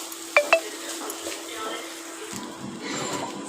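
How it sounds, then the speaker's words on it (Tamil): Rice being stirred in a pan for egg rice, two sharp utensil clinks against the pan followed by soft scraping and a light sizzle underneath, close and fairly quiet. "அதில் ரைஸை போட்டு நல்லா கலரி விட்டுக்கணும்."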